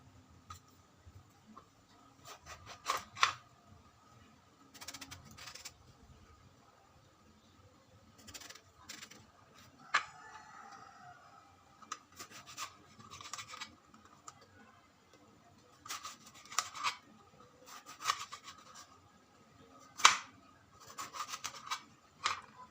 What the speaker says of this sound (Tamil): இந்த மாதிரி சின்ன சின்னதாக கட் பண்ணி எடுக்கணும்